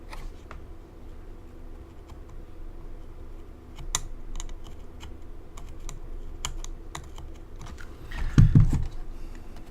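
Small clicks and scratches of a knife scoring a jumper trace on a Sega Master System circuit board, an irregular run of faint ticks that gets louder with a rough scrape toward the end.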